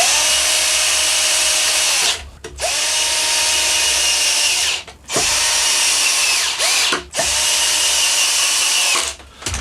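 A power drill drives screws to fix a Telecaster neck onto the guitar body in four loud, steady whirring bursts of a few seconds each, separated by brief pauses.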